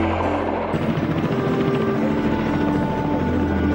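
A Ka-8 helicopter drones steadily overhead, its rotor chopping in a loud, continuous roar with a low throbbing hum that never lets up.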